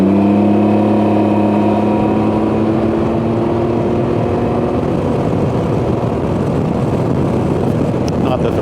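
A 2019 Can-Am Ryker Rally three-wheeler's engine drones steadily while riding, with harmonic tones that fade into broadband road and wind rush, loud and continuous throughout.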